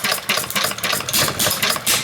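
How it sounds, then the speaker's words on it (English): An early Ervin hit and miss engine, set up as a vapor engine, runs close by with a rapid, uneven knocking chug and clattering mechanical beats. "Ervin hit and miss engine that I picked up at the Cool Spring Engine Show"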